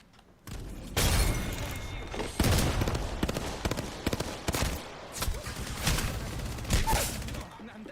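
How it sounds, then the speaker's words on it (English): Frag grenade blast and bursts of gunfire in the battle royale game Apex Legends: a sudden loud boom, then a dense, uneven string of close shots and impacts that keeps going to the end. "Tossing frag."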